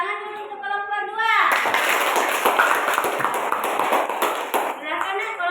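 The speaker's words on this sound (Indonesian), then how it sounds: "Tepuk tangan dulu untuk kelompok 2." A school class claps for a student group after their discussion presentation, brisk clapping from many children lasting a few seconds, with a teacher's voice before it begins and again as it ends.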